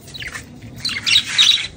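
Harsh squawks and chirps of yellow birds, a few short calls building to louder bursts near the end, with no voices.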